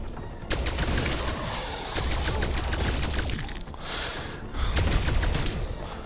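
Rai K-84 rifle firing in Call of Duty Cold War, with dense rapid bursts of gunfire, one long stretch and a shorter burst near the end, loud and close against game noise.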